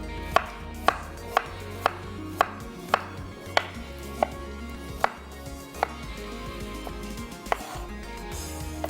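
A knife chops onion on a board in steady, evenly spaced strokes, about a dozen crisp, close knocks at a slow, regular pace over a low background hum.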